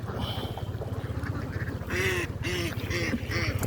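Ducks on a large farm flock quack in repeated nasal calls over a dense, steady background chatter of many birds, close and loud throughout.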